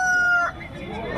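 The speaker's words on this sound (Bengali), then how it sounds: "অনেকগুলো মুরগি আছে" A rooster crows loudly and close at a busy poultry market, its drawn-out call breaking off midway into nearby clucking and crowd noise.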